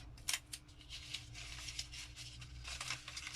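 Masking tape pulled off the roll in a few quick, faint rasping tears at close range, with soft handling rustles between them and no talk.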